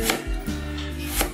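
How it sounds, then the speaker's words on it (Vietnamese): A knife chops through an onion on a board, three firm cuts spaced about half a second apart, loud and close with no voices, while fish steams nearby for a steamed fish dish. "giờ cái củ hành tây này các bạn mình sẽ xắt ra ha"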